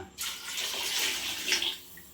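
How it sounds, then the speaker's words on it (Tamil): Water poured from a pot into curry cooking on the stove, a steady continuous splashing gush that runs for about two seconds, close and clear with no talk over it. "ஒரு சொம்பு தண்ணி இல்லை ரெண்டு சொம்பு தண்ணி ஊற்றுவோம்"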